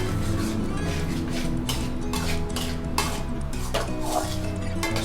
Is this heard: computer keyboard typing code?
no